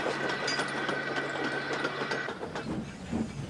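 Steam engine on rails, a small tank engine chuffing away through a shunting yard, heard as steady rolling train noise with faint rhythmic clatter throughout.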